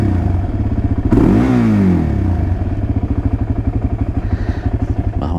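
A quad ATV engine cranks and catches, then settles into a steady, loud, close idle with a fast pulsing rhythm, running alone without talk.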